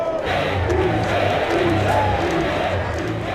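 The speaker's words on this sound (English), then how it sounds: "we've got large crowds, at the top of the west end of Newcastle Central Station" Large crowd of about 200 to 250 rival football fans packed at the west end of Newcastle Central Station on derby day, a continuous loud roar of shouting, chanting and bellowing voices filling the station concourse.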